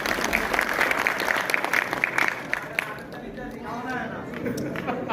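Audience applause at a company programme, a dense wash of clapping that fills the first few seconds, then thins into a scattered crowd murmur.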